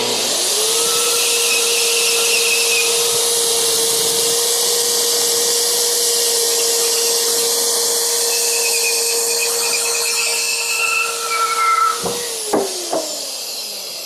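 A Harbor Freight Hercules portable bandsaw cuts through a half-inch bolt in a garage, giving a loud, steady whining drone with a sustained tone for about twelve seconds before winding down, with no talking.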